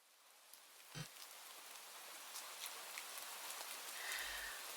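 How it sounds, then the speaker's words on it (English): Rain begins falling during a walk in a video game. A soft, steady hiss of rainfall stays faint throughout, with a few scattered drops and no voices. "in the middle of your walk, it starts to rain"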